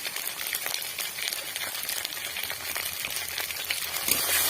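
Spices with cumin powder sautéing in a pan for a fig and prawn dish: a constant close sizzle with scraping stir strokes throughout, no voices.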